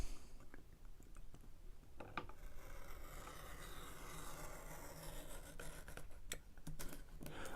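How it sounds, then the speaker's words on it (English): A scalpel cuts through scored card during tulip paper-craft work, giving faint, close scratching and rasping strokes with scattered small ticks, with no talking. "taking my scalpel, I'm going to cut the next section"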